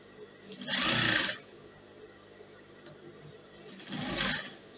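Two short bursts of a sewing machine stitching a skirt lining, each a close, loud whirring run about a second long, separated by a quieter pause with faint handling sounds.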